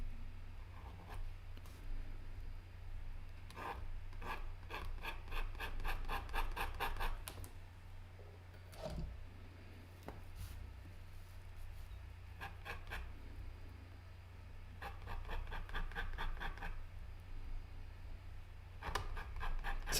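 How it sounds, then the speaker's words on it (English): A metal dip pen nib scratches across paper while drawing in black ink, with short bursts of rapid, rhythmic scratchy strokes separated by brief pauses, close and quiet. "Some people complain about the sound of the dip pen."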